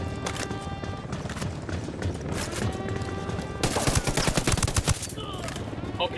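Sustained gunfire in the Ghost Recon Wildlands video game, a dense run of rapid automatic bursts that grows heavier and louder midway, with other game sounds layered beneath and no voices.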